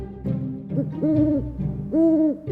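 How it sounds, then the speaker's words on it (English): An owl hoots twice, each call a clear, drawn-out tone with a short pause between, sounding near and alone against a quiet background. "owl"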